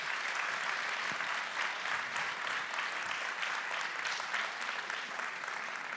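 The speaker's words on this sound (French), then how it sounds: "je vous demande d'applaudir toute l'équipe de Friends sur Escaut qui a proposé ce plateau" An audience at a mayor's New Year greetings ceremony in Fresnes-sur-Escaut gives a sustained, even round of applause for a local team, heard as a soft, distant and uniform wash of clapping.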